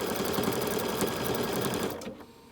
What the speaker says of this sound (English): now I'm going to stitch, and it's going to go backwards right over the previous stitching that I did